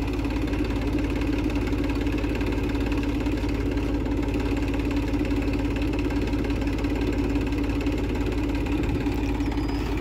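A tractor engine idles steadily and close by while its hydraulics hold up a trailer during a roadside wheel repair, giving an even, rapid low throb that stays unchanged throughout, with no talking.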